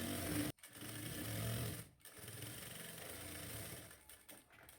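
Domestic sewing machine stitching along the marked hem of a kaftan, a steady close motor whir broken by two brief pauses and a softer run toward the end.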